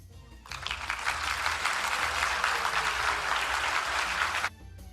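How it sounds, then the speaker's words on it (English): Conference audience applauding the moderator and speakers at the close of an international halal dialogue session, a steady, dense wash of clapping that starts abruptly, holds evenly for about four seconds, then cuts off. "ladies and gentlemen, give a big applause"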